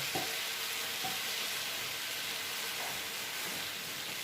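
Chilli flakes frying in hot oil for a chicken karahi give a steady, fairly quiet broadband sizzle that holds evenly throughout, with a few faint clinks and no talking.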